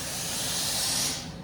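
Steam iron spraying a close, steady hiss of steam onto quilt fabric, swelling briefly and then fading as the burst ends.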